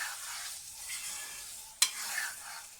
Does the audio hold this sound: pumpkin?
yes